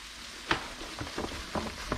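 Chicken pieces deep frying in oil in a wok, a steady close sizzle with a few sharper pops and bursts spread across the clip.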